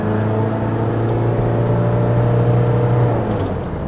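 A 1996 Mitsubishi L200 Cyclone pickup pulls away in second gear, its engine holding a loud, steady, close-up drone with a slight rise in pitch, and no voices over it.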